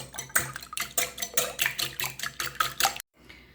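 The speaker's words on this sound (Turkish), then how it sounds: "3 adet yumurtamı çırpıyorum" Three eggs beaten briskly in a bowl, a fast, steady clatter of whisk against the sides repeating for about three seconds before it stops short, with no voices.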